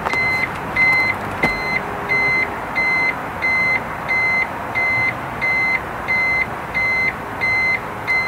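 A reversing beep bulb on an agricultural machine sounds a regular series of about a dozen loud, evenly spaced electronic beeps over a rumbling engine background, with no speech.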